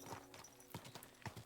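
Horse hooves clip-clopping in the medieval game Kingdom Come: Deliverance II, a few soft, irregular hoof thuds at moderate distance, quiet with no talking over them.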